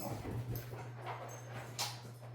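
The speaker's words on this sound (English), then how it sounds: "my dog has the zoomies. Do you hear him running in circles right now?" A 1.5-year-old dog tearing around indoors in circles with the zoomies, with scattered soft paw patter and scrabbling over a steady low electrical hum, plus faint whimper-like noises.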